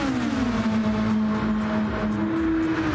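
GTR race cars battle on a video-game track at Deep Forest, their engines giving a loud, continuous whine that slides slightly in pitch as they hold speed, with no talking.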